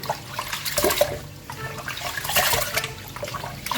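Water sloshing and splashing as rice is rinsed for idli batter, with irregular swishing pours and gurgles over a few seconds, close and moderately loud, no talk.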